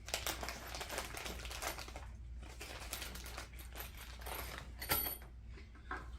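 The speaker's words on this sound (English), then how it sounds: "Align it a little bit so that it's right on the hole, right above the hole, and then start putting the screws in" Screws being driven into eucalyptus wood patio furniture during assembly, a close series of rapid clicking, ratcheting bursts with brief pauses between turns, fairly quiet.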